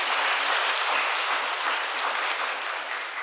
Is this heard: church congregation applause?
yes